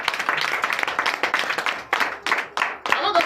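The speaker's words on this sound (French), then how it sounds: "Donnez l'acclamation au Seigneur Jésus." A church congregation at a Sunday service in Comè, Benin claps and applauds in loud, uneven bursts. Voices and cheers mix in with the clapping, and the applause swells, dips and swells again.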